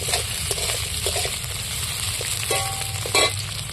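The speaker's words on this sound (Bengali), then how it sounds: "পেঁয়াজগুলো আমি তেলের মধ্যে একটু নাড়াচাড়া করে ভেজে নেব" Onions stirred and fried in oil in a pan, giving a moderate continuous sizzle with soft scraping stirs and a few brief clinks, near and alone.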